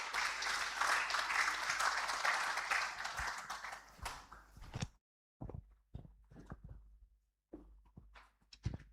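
Conference audience applause at the opening of Africa MENA Brain Week in Rwanda. A sustained round of clapping fades after about four seconds, leaving sparse scattered claps and thumps before a few last isolated ones.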